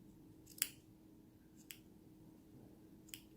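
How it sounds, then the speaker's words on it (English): Scissors snipping through crocheted yarn loops, three crisp separate cuts at uneven intervals, close and quiet in a still room with no talking. "with your scissors, you're going to cut all these little loops right here."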